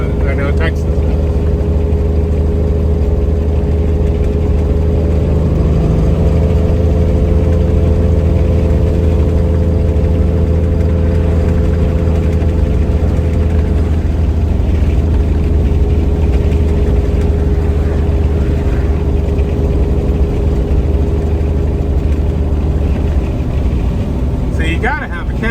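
A cabover truck engine fitted with a muffler idles steadily, a loud, even low rumble and hum that holds unchanged from start to finish, close to the listener.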